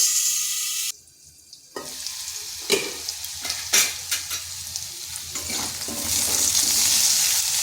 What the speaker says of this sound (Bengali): এটাকেও একটু ভাজা ভাজা করে নেব।